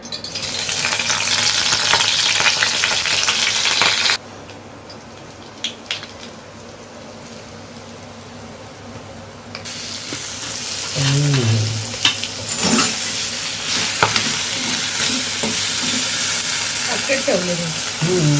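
Whole spices hitting hot oil in a kadhai for tempering: a loud, bright sizzle that drops to a quieter simmer for a few seconds, then flares up again. Voices come in briefly over the frying.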